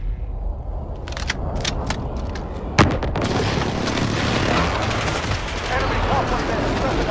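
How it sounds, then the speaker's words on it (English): Precision airstrike in Call of Duty Modern Warfare during a hardcore free-for-all match: sharp gunfire cracks, then a loud close blast at about three seconds followed by sustained rumbling explosions and debris noise. "Enemy precision airstrike"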